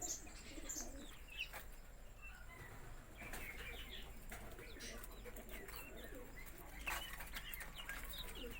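Faint, scattered peeping and cheeping from small bantam and guinea fowl chicks over soft rustling and flutters, quiet and continuous throughout.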